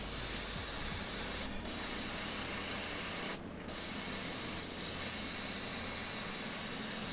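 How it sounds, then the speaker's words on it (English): An airbrush sprays sealer onto the underside of a resin miniature, a steady close hiss running almost unbroken with two brief pauses where the trigger is released. "I'm just using what's left in the brush to seal the bottom of the other piece."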